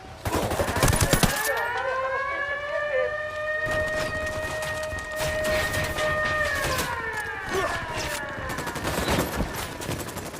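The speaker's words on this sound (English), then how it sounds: "¡Prendieron la alarma, cabrón!" Wailing alarm siren sounding in the Ghost Recon Operation Kingslayer mission, its rising and falling tone held for several seconds amid bursts of heavy automatic gunfire.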